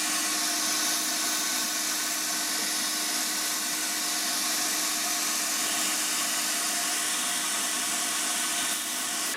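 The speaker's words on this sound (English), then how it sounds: "Air blower." An air blower powered through a fan controller on a modified Harbor Freight sandblaster rig runs as a steady, loud broadband whoosh, constant from start to finish with no voices.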